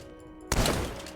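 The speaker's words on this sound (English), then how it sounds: "But let's try this grenade launcher." A grenade launcher fires in the video game Starbound: one sudden loud blast hits halfway through, then a dense rumbling burst lingers for the rest of the moment.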